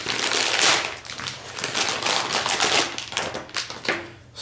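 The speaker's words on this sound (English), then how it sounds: "we've got plastic bag, 2 plastic bags here. Let's open these up." Plastic bags from a Seasonic Focus+ Platinum power supply box being pulled open, a busy run of close crinkling and rustling with sharp crackles throughout, no talking.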